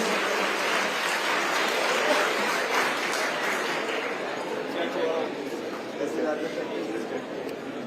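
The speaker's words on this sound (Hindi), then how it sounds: "जोरदार तालियां।" An audience gives loud applause for the children at a public event in Shimla, a dense steady clapping that runs for the whole stretch and thins slightly near the end, with faint crowd chatter beneath.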